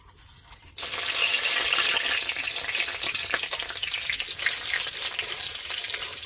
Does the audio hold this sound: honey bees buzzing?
no